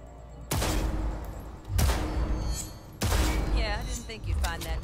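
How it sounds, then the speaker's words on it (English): Rapid gunfire at practice targets in Cyberpunk 2077, arriving as four dense bursts of shots, each sustained for roughly a second, loud and close, with a voice briefly audible among them. "Pick up the weapon, Tika. Shoot all the targets,"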